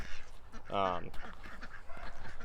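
A single loud goose honk rings out close by, surrounded by a person talking.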